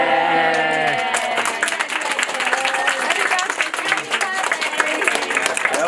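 Applause and cheering from a small gathered audience at a 79th birthday celebration, a steady wash of clapping with scattered voices and whoops throughout, fairly close and continuous.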